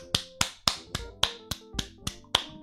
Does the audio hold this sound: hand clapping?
yes